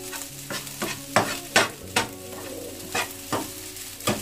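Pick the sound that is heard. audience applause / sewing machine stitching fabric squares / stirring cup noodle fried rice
stirring cup noodle fried rice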